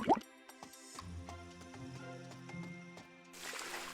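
Water poured onto crops in the Cropia farming video game gives soft drips and plops, then a brief splashy trickle near the end, set against light tonal game music.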